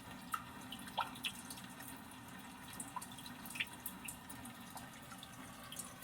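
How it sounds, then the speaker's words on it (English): Gentle rainy-day ambience from a nature sound setting in a 2020 Hyundai Sonata Limited, scattered quiet drips and light patter over a low steady background hiss, faint and close. "rainy day"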